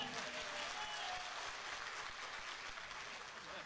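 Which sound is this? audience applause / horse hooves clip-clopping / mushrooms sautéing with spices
audience applause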